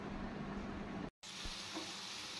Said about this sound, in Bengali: এদিকে আলু আর গাটকচু ভাজা বসিয়ে গেছিলাম আঁচটা কমিয়ে।